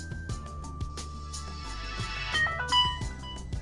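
An LG Optimus L3 phone powering up, playing a short melodic startup chime with clear rising electronic tones over faint background hum, close and moderately loud.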